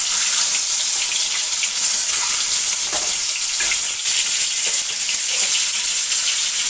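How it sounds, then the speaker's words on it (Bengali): Duck eggs frying in mustard oil tinted with turmeric, giving a loud, continuous, hissing sizzle with no break throughout. "আমি ডিমগুলো ভাজবো, তাহলে তেল ছিটাবে না"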